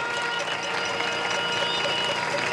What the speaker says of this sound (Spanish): Y un aplauso también a los trabajadores de Corpoelec